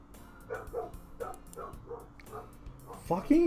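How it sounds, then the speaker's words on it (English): Dogs bark in a video game scene, a series of short repeated barks spaced through the moment, moderately loud and ending in a louder, higher yelp, with faint background music or ambience underneath. "Fucking dogs."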